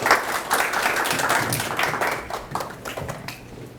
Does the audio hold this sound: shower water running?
no